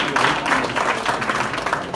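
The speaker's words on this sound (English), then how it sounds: "Let's give him a big round of applause." An audience at a boxing show applauds a boxing official called onto the stage, a dense burst of clapping for about two seconds, fairly close and loud.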